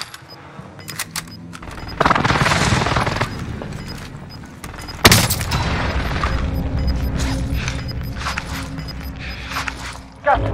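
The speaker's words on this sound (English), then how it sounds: "Enemy precision airstrike." Precision airstrike explosions in Call of Duty Black Ops Cold War's Rebirth mode, loud booming blasts with crackling gunfire, a heavy burst near two seconds and a sharp impact near five, followed by sustained rumbling battle noise.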